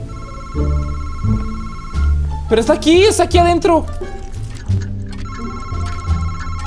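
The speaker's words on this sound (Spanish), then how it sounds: "¡Oh! Un teléfono." Telephone ringing inside a horror video game, a repeated electronic ring burst standing out in the middle of the stretch, with someone talking over it before and after amid game music.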